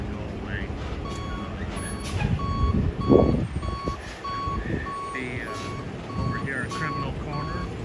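A truck's backup alarm beeps steadily in a regular series of evenly spaced pulses, clear above street noise and idling engines, with a burst of heavier engine and air-brake sound midway and people talking nearby.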